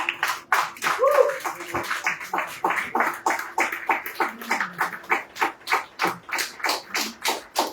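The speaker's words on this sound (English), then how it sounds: "Please welcome him with a warm round of applause." At a Rotary Club installation ceremony, an audience claps to welcome the newly installed club president. The hand-claps are sharp and distinct and settle into a steady, evenly paced rhythm, with faint voices in the background at the start.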